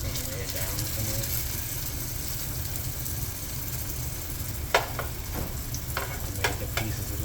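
Floured liver pieces fry in hot oil in a frying pan, a steady moderate sizzle throughout with a few sharp crackles and pops near the end.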